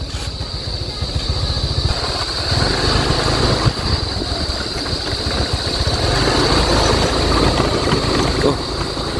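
A motorcycle engine idles steadily at close range outside a resort, its low rumble continuous and fairly loud for the whole stretch, with no talking over it.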